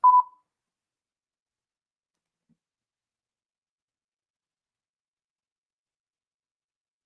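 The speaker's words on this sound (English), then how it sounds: "After the beep, please say your voice key passphrase." A single short electronic beep from a voice verification system, sounding once at the start and followed by silence.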